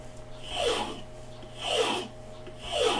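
Knife blade deburred on a Tom Stone sharpener, three slow, even rasping strokes close up, each swelling and fading in a steady back-and-forth rhythm over a low hum.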